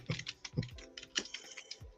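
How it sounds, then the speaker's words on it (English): Quick, uneven keystrokes on a computer keyboard, close and fairly quiet, tapping in short bursts with no talk over them. "What are you typing?"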